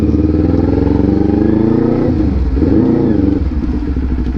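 A Kawasaki Ninja Z400 motorcycle engine runs close by with a steady, throaty drone. The revs dip briefly midway, then climb back to a firm hum.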